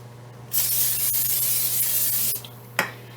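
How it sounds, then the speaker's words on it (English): Cooking spray hisses out of an aerosol can onto a non-stick pan for an omelette: one loud, steady spray burst of about two seconds, then a short second puff, over a low kitchen hum. "Even though these are non-stick pans, I still put a little spray just to make sure."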